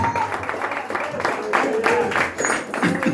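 A Portuguese-speaking congregation claps during an evangelical service, a rhythmic burst of applause mixed with voices and cheering.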